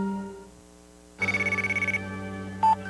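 A telephone rings in a rapid electronic trill of about a dozen pulses, then a short tone follows, close and clear over a faint music bed, with no talking during the ring.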